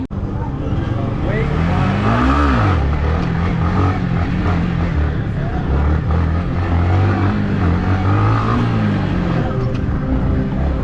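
Motorcycles on a gymkhana track at an outdoor riders' event in Shillong, engines loud and close with revving swells and a continuous drone, crowd noise and voices underneath.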